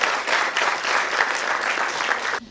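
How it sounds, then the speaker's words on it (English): Steady applause from an audience at a corporate closing ceremony in Kuala Lumpur, an even wash of clapping that ends abruptly near the close. "Give yourself a big round of applause."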